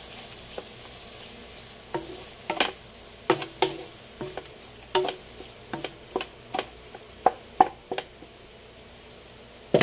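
A spoon stirs squid frying in a pan, with a faint sizzle underneath and a run of sharp scraping knocks against the metal, irregular and close, coming thicker toward the end.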